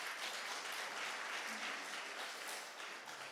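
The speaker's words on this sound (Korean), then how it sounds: "우리 하나님께 크게 한번 영광의 박수 한번 합시다." A church congregation claps together in a dense, steady wash of applause that fills the room evenly and fades slightly toward the end, with no clear voices over it.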